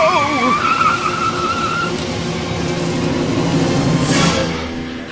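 A car skidding in the video game Frequency Lite: a loud engine drone with wavering tire squeal early on and a sharper screech near the end, continuous and close.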